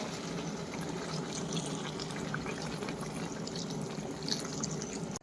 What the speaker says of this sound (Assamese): ভাজাটো হ'ল এতিয়া পানী দি আছোঁ মই